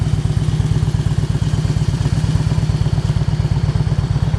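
A 2000 Harley-Davidson motorcycle with a removable trike kit idles close by, its engine firing in a loud, steady, lumpy rhythm of low thumps with no talking.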